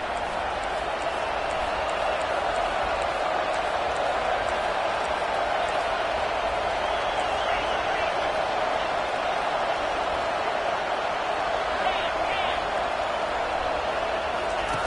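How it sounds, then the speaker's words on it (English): A home football crowd roars continuously at a stadium, a dense, steady wall of cheering that lasts the whole stretch, with a voice speaking faintly over it. "this home crowd is fired up and ready to make a difference today"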